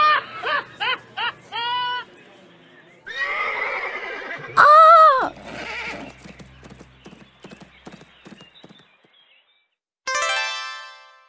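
A frightened horse from a princess story gives one loud, close whinny after a run of clip-clopping hoofbeats. Busier rustling follows, then a second rising neigh near the end.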